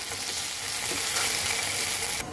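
Soybean chunks coated with ginger paste sauté in a hot pan with a dense, steady sizzle and crackle throughout, cooked like meat; the frying stays loud and close, with a slight drop near the end.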